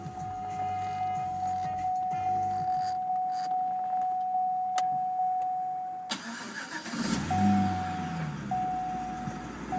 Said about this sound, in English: let me turn on this car to get rid of this bong.